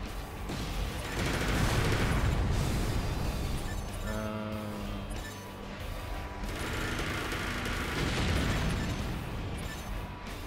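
Missile explosions in the Ace Combat 4 flight combat game, heard as a dense run of booming, rumbling blasts that swell, ease off briefly with a tonal beep, then build again in another loud barrage.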